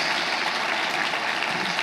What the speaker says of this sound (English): can we get a round of applause for the competition today?